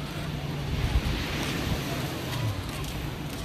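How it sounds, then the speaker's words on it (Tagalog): Waves break steadily along a seashore, a continuous rushing surf mixed with wind buffeting the microphone, moderately loud and unbroken for the whole stretch. "바다야, 바다야."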